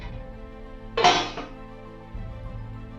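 A lid set onto a cooking pot while preparing a home-style Bengali lunch, a single sharp metallic clink with a brief ringing tail over quiet kitchen background hum.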